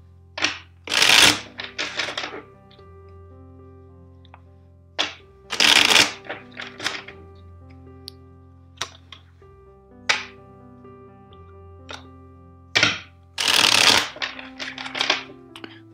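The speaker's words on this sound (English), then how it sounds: "First, let's shuffle the deck 5 times for you." Crisp riffle-shuffles of a deck of cards in several separate bursts, each a quick ruffling flutter, with soft taps and handling sounds in between.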